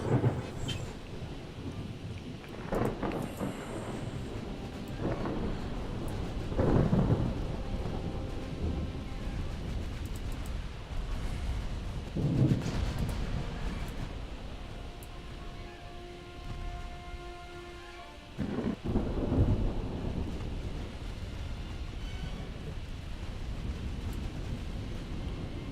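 Thunderstorm in the naval warfare game Ultimate Admiral Dreadnoughts: a steady roar of rain and wind with several deep rolling thunder rumbles swelling and fading across the stretch, no talking over it.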